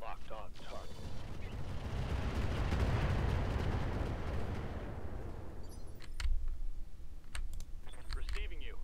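Mech weapons fire in the Roguetech battle game as a dense, rumbling barrage that swells and fades. Sharp clicks and blasts follow, with a radio voice audible.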